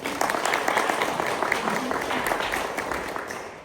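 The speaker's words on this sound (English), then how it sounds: "Give them a clap." Clapping from an audience at a panel discussion, a moderate steady patter of many hands lasting a few seconds and slowly fading at the end.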